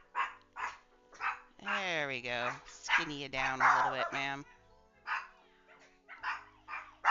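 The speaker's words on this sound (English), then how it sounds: "Sorry about the dogs." Several pet dogs bark, yip and whimper in loud, repeated bursts close to the microphone, mixed in with a person talking casually indoors.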